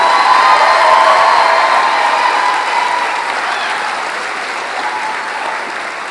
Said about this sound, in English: Let's have a hearty round of applause for all of the graduating students.